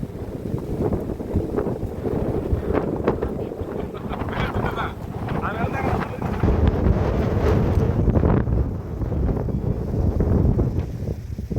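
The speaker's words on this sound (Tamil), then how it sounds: "அடிக்கிற காத்துக்க பாருங்க எப்படி பேத்துக்கிட்டு நிக்குதெல்லாம்" Strong wind gusts buffet the microphone outdoors near a thatched-roof house, a loud continuous roar with heavy rumbling bursts, rising toward the end.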